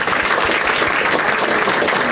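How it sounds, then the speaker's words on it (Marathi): Audience applause from a Zingat role-play crowd, dense and steady throughout, loud and close with no voices over it. "एकदा टाळ्या वाजवा दोघांसाठी."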